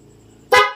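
A faint low hum gives way to one short, loud blast of a PIAA aftermarket horn on a Honda ADV160 motorcycle near the microphone.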